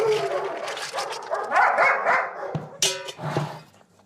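Dogs at an animal shelter barking and yipping in overlapping bursts, close and loud, with whimpers between barks and a sharp bark near the end.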